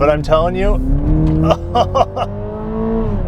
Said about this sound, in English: Traditionally, 4 cylinders don't sound that great,